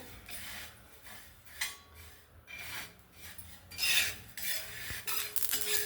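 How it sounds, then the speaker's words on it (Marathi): Dry niger seeds rasp and rustle as a utensil stirs them around a pan while roasting, in repeated scraping strokes, fairly quiet and close. "कारळ भाजून घ्यायचं"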